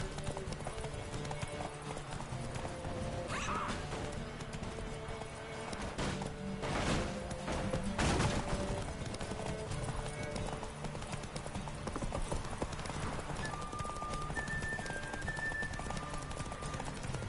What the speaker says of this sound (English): Take your mount to her limits.